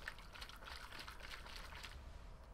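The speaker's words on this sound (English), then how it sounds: "Shaking up my water." Water sloshes and trickles as it is shaken in The Evil Within video game, a soft continuous liquid burbling with light irregular splashes at a faint level.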